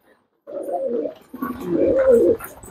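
Domestic pigeons in a home loft coo in two close, soft bursts, low and throaty, heard near with no talk over them.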